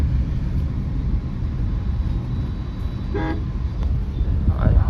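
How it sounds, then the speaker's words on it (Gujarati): A car horn gives a short toot amid the low rumble of road traffic, with a second fainter honk near the end. "હોરન કરીને ટી ટી ટી ટી અમને નીકળવા દો"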